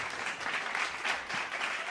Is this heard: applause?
yes